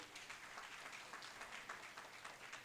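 Faint applause from an audience of mothers at a stage event, a soft, steady patter of clapping heard from a distance.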